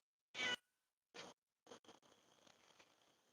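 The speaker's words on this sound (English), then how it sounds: "Look at this cat." A cat meows in short, distinct calls, a louder one first, then two softer ones and a couple of brief chirps, followed by quiet shuffling noise, close and alone.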